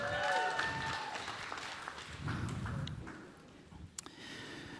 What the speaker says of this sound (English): A round of applause for our facilitators